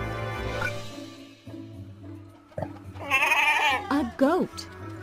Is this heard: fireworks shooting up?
no